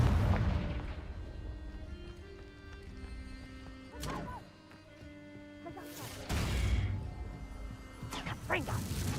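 Blasting spell explosions from a wizarding video game, with sharp booming impacts and crashes at about 4 and 6.4 seconds over a busy layer of game noise and music, with further bursts near the end.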